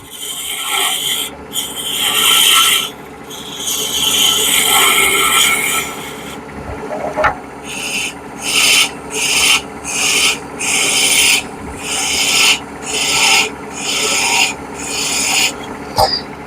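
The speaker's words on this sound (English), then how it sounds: "So we're going to round this a little bit and we'll do a little sanding" Wood is sanded by hand: a long continuous rasp, then a series of rhythmic back-and-forth scrubbing strokes, close and fairly loud.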